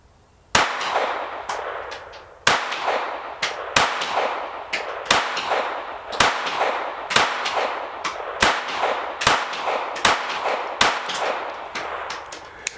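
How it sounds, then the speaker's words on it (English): A KelTec CP33 .22LR pistol fires ten shots at a 7-yard target outdoors, each a sharp, loud crack followed by a brief ringing decay, spaced at a steady, slightly uneven pace. "5 or 10 shots at the 7 yard target and just see how it does"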